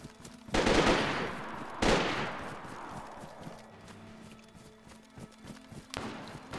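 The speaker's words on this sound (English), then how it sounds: "Oh, being shot at from behind." Gunfire in the video game DayZ during a PvP fight: two sharp, loud shots with long echoing tails, then scattered fainter distant pops and footsteps, with no talk.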